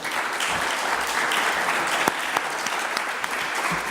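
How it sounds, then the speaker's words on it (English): A conference audience applauds the panelists of a session on smart specialisation, with dense, even clapping from many hands heard steadily across the room. "I would like to invite you to give a round of applause to these great"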